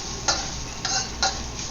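A spatula scrapes and turns Spam garlic fried rice in a large wok over a constant sizzle, with three distinct scraping strokes spaced about half a second apart, close by.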